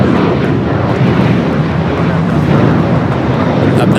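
A Boeing 767 airliner taxiing along taxiway Kilo at LAX gives off a steady, loud broadband roar that holds level for the whole stretch, with no voices over it.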